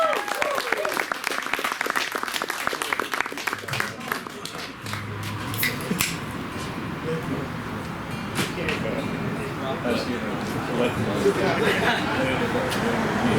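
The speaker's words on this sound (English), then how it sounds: "Everybody, please give him a big round of applause." A concert audience at a live rock show claps and cheers in a steady, sustained round of applause, with a voice audible over the crowd.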